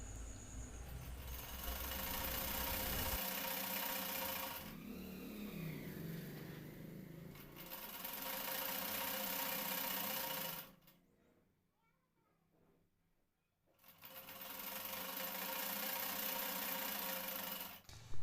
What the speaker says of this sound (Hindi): और सिलाई लगा देंगे।